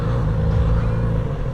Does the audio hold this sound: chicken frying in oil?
no